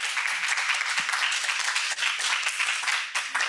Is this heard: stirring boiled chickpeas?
no